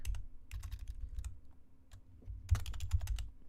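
Fast typing on a computer keyboard while writing code for a Minecraft Origins mod, with close, crisp clusters of key clicks separated by short pauses.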